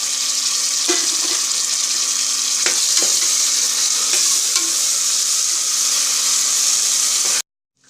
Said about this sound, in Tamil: 1 tablespoon இஞ்சி பூண்டு பேஸ்ட் போட்டுறேன்.